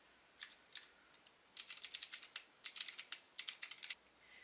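Someone types code on a computer keyboard in quick, close, crisp bursts of keystrokes separated by short pauses.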